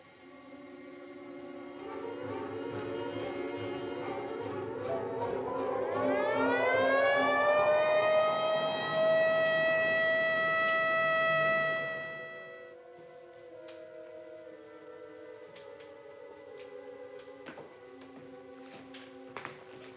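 An ambulance siren in a 1952 American film noir drama swells into a loud, rising mechanical wail, holds it for several seconds and then cuts off, leaving faint ticking behind.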